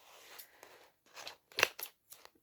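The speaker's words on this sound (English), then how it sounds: "found my scissors to open this one" Scissors snip and crunch through the packaging of a manga parcel, a few short crisp cuts close to the microphone in a quiet room.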